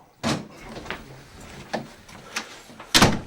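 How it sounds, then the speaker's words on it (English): A door is shut on the set of the TV series The Shield, a sharp thud early on followed by softer handling knocks and a second, louder bang near the end, close and without talk. "Yeah, shut the door."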